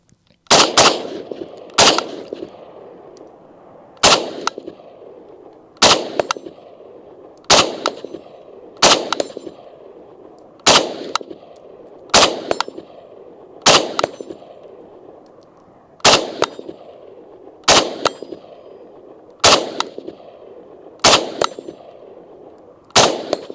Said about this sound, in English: I'm gonna shoot this guy a couple more times, and then I'll shoot the steel.